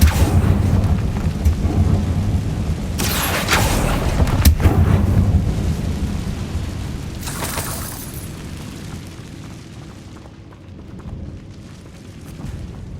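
Booming Bombarda spell blasts in the Hogwarts Legacy video game, deep rumbling explosions with sharp cracks that roll off and fade to a quieter tail.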